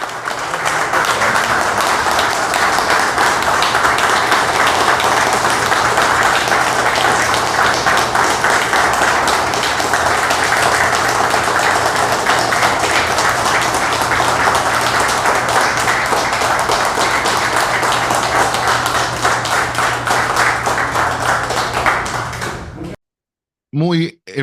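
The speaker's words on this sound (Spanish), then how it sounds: "durante un minuto le demos un aplauso efusivo" Sustained standing ovation from a crowd honouring a sports figure's career, a loud, dense wash of clapping lasting about twenty seconds before cutting off abruptly.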